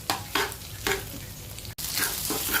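Macaroni tossed with liver in a hot pan, frying with a steady sizzle and repeated scraping stirs, close and fairly quiet with no talking.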